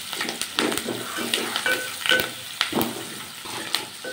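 Sliced onion, curry leaves, green chillies and garlic cloves fry in a pan, a close, steady sizzle broken by repeated scraping stirs at an uneven rhythm.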